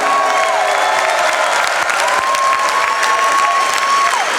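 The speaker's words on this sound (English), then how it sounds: "Let's give a round of applause to the Chicago Bliss and the amazing run that they had." A stadium crowd at a Legends Football League cup game applauds and cheers loudly and continuously for the Chicago Bliss, with sustained whistles or horn tones ringing over the clapping.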